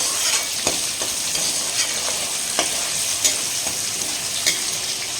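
Small onions sauté in a pan for a country-chicken basmati biryani: a steady close sizzle, broken by occasional clicks of stirring.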